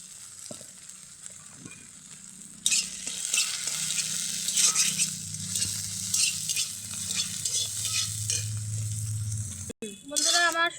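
Dried shrimp frying in hot oil while being stirred, a steady close sizzle with scraping and light rattling of the spatula that grows louder midway and stops abruptly near the end.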